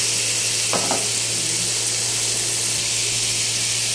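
Boiled liver goes into a hot sizzling pan, making a loud, constant frying hiss with a brief clatter as the pieces drop in early, under a steady low hum.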